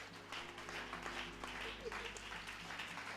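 A church congregation claps in sustained applause across a large room, with voices and a low steady hum underneath.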